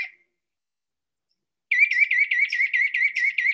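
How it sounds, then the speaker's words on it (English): A wild red-shouldered hawk calls after a brief silence: a rapid series of about nine loud, clear, evenly spaced screaming notes, close and alone. "Here's a real red-shouldered hawk."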